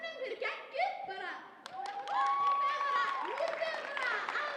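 An audience claps at a youth design competition, the applause mixed with loud cheering and excited voices.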